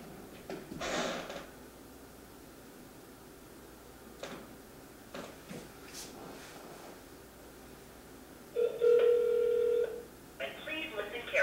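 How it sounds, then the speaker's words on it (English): Phone call being placed: faint taps and clicks, then a brief run of electronic dial tones near the end, set against low background hiss with voices nearby. "why don't you just call the number?"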